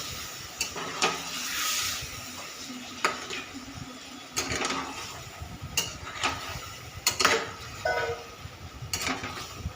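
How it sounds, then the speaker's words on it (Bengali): Mutton stirred in hot oil in a pan sizzles steadily while a utensil repeatedly scrapes and clinks against the metal in an irregular rhythm, close up, with no talking. "এই মাংসটার মধ্যে দিয়ে দেবো, দিয়ে অল্প একটু নাড়াচাড়া করে"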